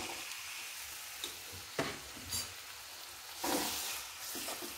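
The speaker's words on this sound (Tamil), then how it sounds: "வெங்காயம் போட்டு வதக்கியாச்சு" Onions sauté in oil in a wok, with a faint, steady sizzle and a few brief stirring scrapes, one longer swirl near the end, heard close but quietly with no voices.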